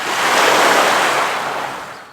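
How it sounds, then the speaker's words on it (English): Waves from South Lake Tahoe washing onto the shore, a single close surge of hissing, broad splash that swells and then slowly recedes, with no voices. "As the water hits the shore of South Lake Tahoe"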